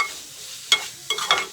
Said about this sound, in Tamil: வெட்டி வச்சிருக்கிற வெங்காயத்தை போட்டுக்கலாம்.